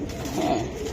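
Pigeons coo softly and steadily throughout, a low murmuring call from racing-type Giribaz pigeons kept in a loft, fairly close with no talk over it.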